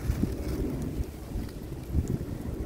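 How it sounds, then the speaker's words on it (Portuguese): Wind blowing outdoors on a day after heavy rain, a low, rumbling gusty rush buffeting the microphone, swelling and easing in a couple of surges, with no talking. "Tá um vento, pessoal."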